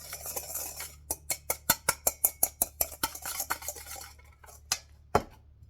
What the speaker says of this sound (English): you're going to mix that sugar up until it becomes like wet sand